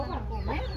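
A farm hen clucks in a short, close burst of a few throaty notes over a low background hum.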